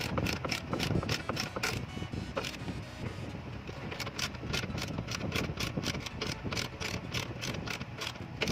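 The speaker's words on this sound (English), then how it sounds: "Tighten the 2 screw bolt for rear trailing arm." A ratchet wrench tightens the bolt on a car's rear trailing arm bushing, a close, rapid run of clicking pawl strokes in steady bursts, with a brief pause partway through before the clicking resumes.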